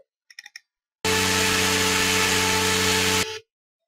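A gearless helicopter sound effect from the PhoenixRC flight simulator plays as a steady, buzzing electric whine with strong tonal harmonics, lasting a couple of seconds before cutting off abruptly, preceded by a few soft clicks.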